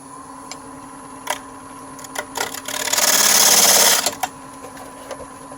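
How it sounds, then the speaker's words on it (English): A bowl gouge slicing fibres off a natural edge wooden bowl on a woodturning lathe, a steady rasping cut of about a second amid scattered ticks and taps, close and loud. "if I can take this bow gouge and slide across there, I'm slicing fibers of wood off"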